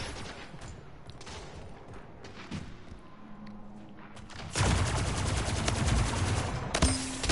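Gunfire in the arena shooter game Splitgate, a steady rattle of shots that swells into a loud, dense automatic burst over the second half, with thuds mixed in.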